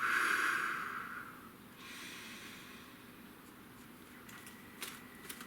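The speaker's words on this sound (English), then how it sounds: "Nice deep breath." A deep breath, slow and close, opens with a loud airy inhale, followed by a softer, longer exhale and a quiet tail.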